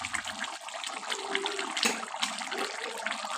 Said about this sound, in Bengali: এই দেখো মাছটা পুরা ফুটছে।